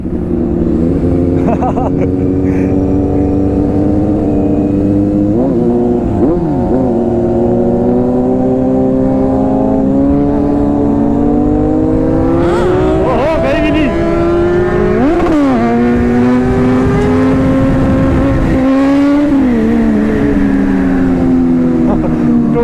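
Superbikes, Kawasaki Ninja ZX6R, Z900 and Suzuki GSX-S750, rev and accelerate close by, their engine notes rising and falling in repeated surges over a steady loud drone, with a brief voice in places.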